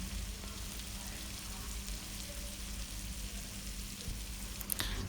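Fish sizzling steadily in hot oil in a pan as chili powder is sautéed in, a dense, even crackle throughout with a faint clink near the end.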